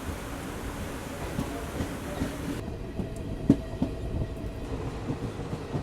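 Low, steady rumble of a train crossing the Pamban sea bridge near Rameswaram, with soft rhythmic clicks and knocks from the wheels, fairly quiet and even throughout.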